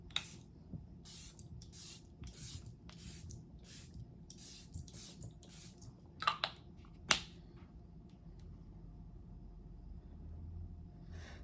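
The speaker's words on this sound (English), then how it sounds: "We're gonna use the Charlotte Tilbury Airbrush setting spray." Charlotte Tilbury Airbrush setting spray misted repeatedly close up, about a dozen short hissing pumps in a quick, even rhythm, followed by a couple of sharp clicks and quiet handling noise.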